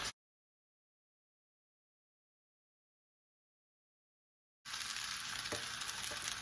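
Spaghetti noodles stir-fried in a pan for Singaporean rice, a steady loud sizzle and scraping stir rising abruptly after a long silent gap and holding through to the end.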